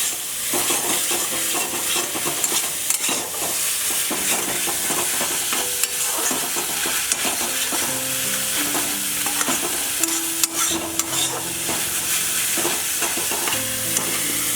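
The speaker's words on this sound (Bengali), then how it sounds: "এবার আদাটা খুব ভালো করে কষে যেতে হবে" Ginger and chili paste sautéing for a prawn malai curry, a steady loud sizzle and frying crackle with repeated stirring scrapes throughout, while faint tonal sounds sit in the background.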